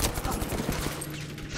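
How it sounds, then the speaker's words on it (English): Suomi submachine gun firing in Battlefield V, a steady rapid burst of automatic fire running the whole short stretch, loud and close. "I may not be using the Suome with higher rate of fire."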